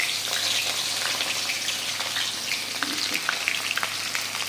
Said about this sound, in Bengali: বেগুনগুলো লাল করে ভেজে নেব